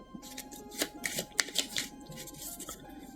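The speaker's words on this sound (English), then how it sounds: "So we'll give these a shuffle" A deck of cards for the Junkyard Juggernauts game being shuffled by hand, several quick riffling bursts and soft snaps close by, with no talking.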